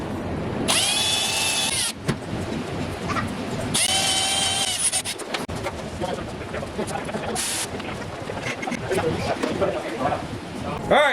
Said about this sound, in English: I'm taking the wire wheel to the tips of it just to kind of clean it up